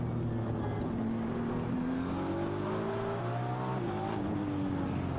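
A Ferrari race car running flat out up the main straight at Okayama, its engine note rising steadily through the revs in a loud, sustained onboard-style drone with no talking over it.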